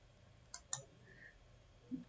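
Faint computer mouse clicks while working in Revit software: two quick clicks close together, then a soft tap, in an otherwise quiet room.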